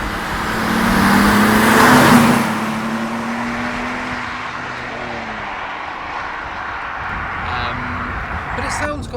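Supercharged BMW E39 530i track car with roughly 300 bhp and its rear silencer removed, giving a deep, droning exhaust note that swells to a loud peak early on, then settles into a steady, slightly fading rumble.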